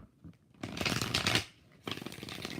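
Tarot cards are shuffled by hand in two bursts of quick riffling and flicking, the first longer and louder, separated by a brief pause, close up and without talk.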